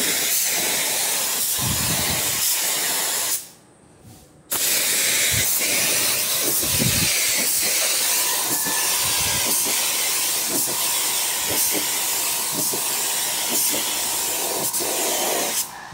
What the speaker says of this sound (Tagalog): I-spray na po natin siya ng sanding sealer mga ka-painters.